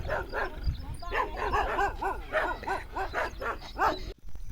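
A dog barks in a quick, steady run of sharp yips and woofs, close and fairly loud, during a family wedding-related visit, with faint talk and movement beneath.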